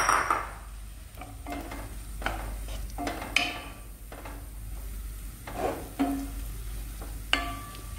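Onion frying in oil in a pan gives a soft, continuous sizzle, overlaid with intermittent scrapes and taps from a stirring utensil, fairly quiet and close, with no talking.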